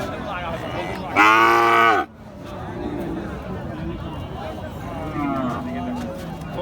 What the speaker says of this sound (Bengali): সবে মাত্র ঢুকছে গরু